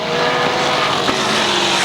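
NEMA midget race cars roar around the Waterford Speedbowl oval, a dense, loud wall of engine noise with a slight swell as cars pass, continuous throughout the short stretch.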